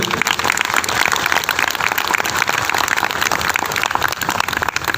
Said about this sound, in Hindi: छत्तीसगढ़ महातारी के लिए तालियां होनी चाहिए